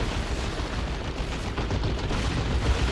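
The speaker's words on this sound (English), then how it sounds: "Tank buster barrage." Rocket barrage from Ork tank buster units in a Dawn of War 2 Eldar versus Orks match: a dense, continuous rumble of overlapping blasts and booms, loud and sustained across the whole moment with no clear gaps.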